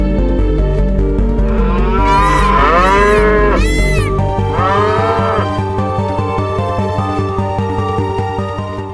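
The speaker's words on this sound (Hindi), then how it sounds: "ये इतनी सारी गायें यहाँ क्या कर रही है?" Cows lowing in a long, loud, drawn-out chorus of several overlapping moos over a steady tonal musical backdrop, with no talk.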